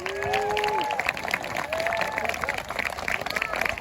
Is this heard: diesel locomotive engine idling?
no